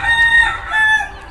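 A large derby-size rooster crows loudly and close, a short strained call in two bursts within about a second, with no talk over it.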